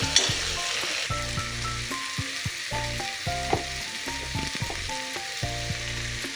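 Mutton paya ingredients with crushed pepper fry in a pan as they are stirred: a steady close sizzle broken by repeated scraping and clinking stir strokes, with no talking.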